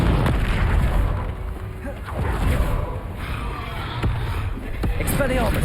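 Booming fire-spell explosions from the Confringo curse in Hogwarts Legacy, with repeated heavy bursts and crackling rumble over a continuous loud wash of game sound.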